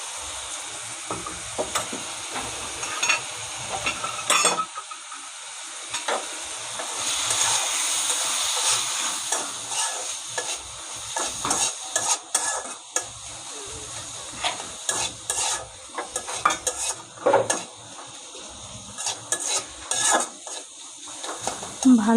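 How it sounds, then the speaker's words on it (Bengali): Fish and taro are sautéed in a pan with spices, a low sizzle under frequent clattering spoon-against-pan scrapes and knocks, loud and close, with a brief burst of stronger frying in the middle. "ভালো করে কষিয়ে নেব।"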